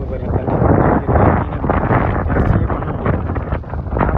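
Wind blows at a lake during snakehead fishing on a sunny day, roaring as loud, gusting buffets against the microphone that rise and fall throughout.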